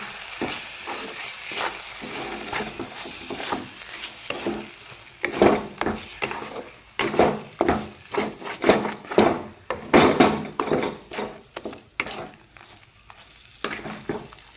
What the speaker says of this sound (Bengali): এখন দিয়ে দিব করে রাখা ডাল পেস্টটা, ভাবে নাড়িয়ে চেড়ে নিব মিশিয়ে